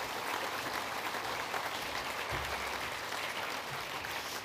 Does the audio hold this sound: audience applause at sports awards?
yes